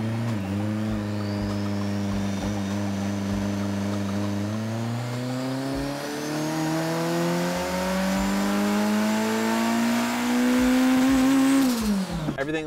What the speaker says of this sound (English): we're gonna put the car on the dyno